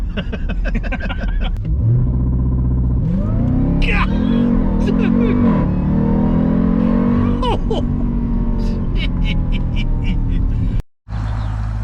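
A supercharged Hellcat-powered Jeep Trackhawk launches hard, its engine rising in a loud, close rev with supercharger whine and climbing pitch, then falling and revving again before cutting off abruptly near the end; voices are heard alongside.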